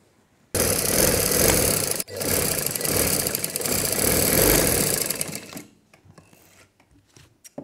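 A sewing machine stitches the skirt of a baby girl's frock, running in a loud, fast, steady whir for about five seconds with one brief hitch before it stops and falls quiet.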